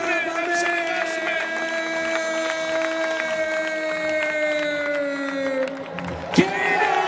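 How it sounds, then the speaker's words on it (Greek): A large stadium crowd at a Red Bull X-Fighters freestyle motocross final in Athens keeps up continuous cheering and clapping, with whistles and a sustained horn-like tone, capped by a sharp burst near the end. "Πάμε δυνατό χειροκρότημα."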